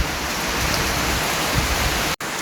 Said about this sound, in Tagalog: Buti ngayon, wala namang hangin, sobrang lakas lang ng ulan.